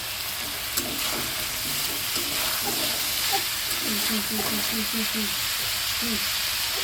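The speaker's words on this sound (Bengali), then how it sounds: "মাংসটা ভালো করে ভাজা হয়ে গেলে এবার সব রকম মশলা দিয়ে দেবে আদা রসুন ঝাল হলুদ সব রকম মশলা দিয়ে ভালো করে কষা হবে" Meat is fried and stirred in a pan with ginger, garlic, chili and turmeric for a Bengali mangsho kasha, a steady close sizzle and hiss with stirring, while a person talks over it.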